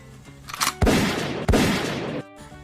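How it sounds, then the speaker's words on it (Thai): Three sharp, loud gunshots in quick succession, each with a booming tail, over a low background score. "เสียงปืนดังขึ้นสามนัด"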